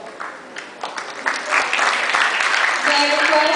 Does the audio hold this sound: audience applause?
yes